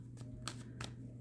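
A deck of pick-a-card cards being shuffled, three short riffling bursts in quick succession, close and quiet.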